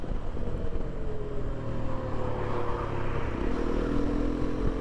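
A Hero Xpulse 210 motorcycle rides at a steady engine drone with harmonics that shift near the end as the bike brakes, close and continuous with no talk.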